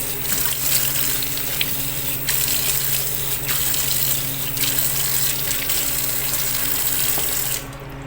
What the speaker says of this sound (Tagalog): Ang sunod ko naman pong gagawin ay huhugasan ko po muna ang aking kamay.